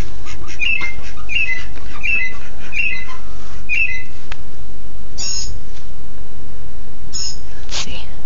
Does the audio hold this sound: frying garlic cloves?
no